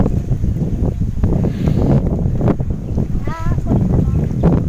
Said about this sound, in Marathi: हा बघा वारा आला वारा आला